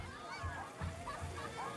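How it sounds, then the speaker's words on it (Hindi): Local people bathing and playing in the water of Lake Malawi, with soft splashes and sloshing under lively children's voices and chatter throughout. "ये सारे लोकल लोग नहाने लग रहे"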